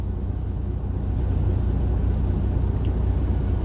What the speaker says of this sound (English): It'd be that white Freightliner. It'd be that white Cascadia